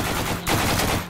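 Gunfire in the zombie shooter The Walking Zombie: Dead City comes as a dense, loud burst of rapid shots filling the whole moment, briefly dipping midway before resuming.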